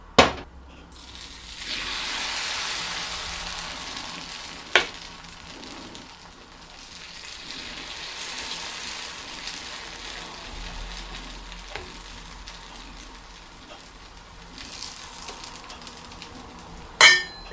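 Bun dosa batter fries in oil on a hot iron pan with a steady, fairly loud sizzle, broken by a few sharp clinks and bursts of louder spattering, with no talking.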